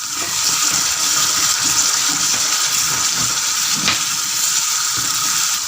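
Chicken liver masala frying on a high flame with soy sauce, producing a loud, continuous sizzle with steady crackling close up.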